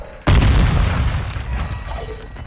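A Semtex grenade detonates in Call of Duty: Modern Warfare II, one sudden loud boom that hits hard and then rumbles and fades over a couple of seconds.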